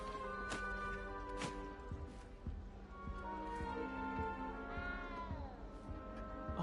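A cat in a PS4 video game meows several times, clear, drawn-out cries with a rising, wavering wail near the end, set against faint game ambience and no talking.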